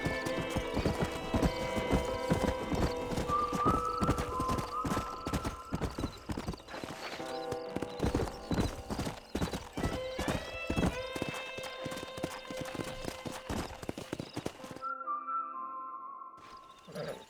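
Many hooves clop in a fast, steady trotting rhythm, loud and close, with a horse whinnying briefly near the end, in the video game Red Dead Redemption Remastered.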